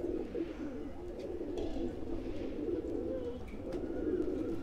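Kasuri golden pigeons from a Border lot cooing steadily in a loft, a soft continuous murmur of overlapping low coos running through the whole stretch with no talking.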